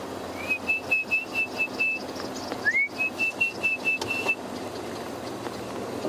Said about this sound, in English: you hear that bird calling there, the orange-breasted bushshrike